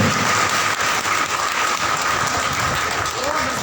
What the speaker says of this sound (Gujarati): જોરદાર તાળીઓથી સ્વાગત કરો રમાબેનને